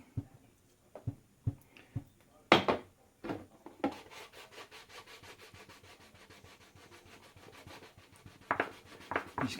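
A rag soaked in surgical spirit rubs a label on a glass jar: a few separate scrubbing strokes at first, then continuous rapid back-and-forth rubbing, close and fairly loud, with no voices.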